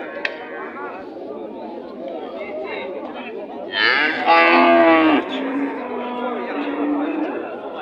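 Cattle low at a busy livestock bazaar, a loud moo rising for about a second above steady crowd chatter and bargaining voices.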